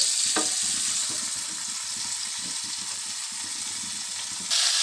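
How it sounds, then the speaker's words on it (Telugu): Pepper-coated fish frying gently in a pan over low heat, giving a steady, close sizzle that crackles evenly throughout, with a few soft clinks of a plate or utensil near the start and a brief swell of sizzle at the very end. "ఈ చేపల్ని హైలో కాకుండా సిమ్లో కాల్చుకుందాం"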